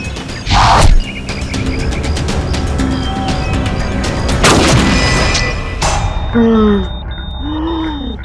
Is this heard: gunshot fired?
yes